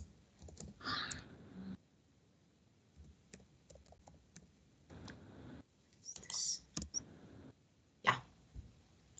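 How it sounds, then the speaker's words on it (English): Computer keyboard typing during an online class: scattered bursts of soft clicks and taps with pauses between them, fairly close and quiet, with faint voice-like sounds in places. "Oh, I was typing."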